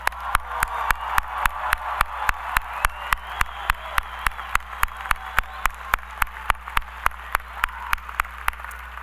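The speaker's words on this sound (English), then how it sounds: "Let's give them one more round of applause." Sustained applause from a crowd at an Ohio University graduate commencement ceremony in 2014, a dense steady wash of clapping with no talk over it.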